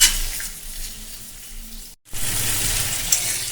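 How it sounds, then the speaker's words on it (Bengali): Pointed gourd, potato and pumpkin fry in oil in a pan over a medium flame, a steady close sizzle that breaks briefly at a short cut before continuing, with no speech. "মিডিয়াম ফ্লেমে রেখে আমি 2 থেকে 3 মিনিট এইভাবে ভাজা করে নেব পটল,"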